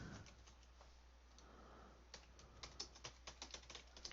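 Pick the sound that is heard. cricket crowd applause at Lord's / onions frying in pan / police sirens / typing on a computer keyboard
typing on a computer keyboard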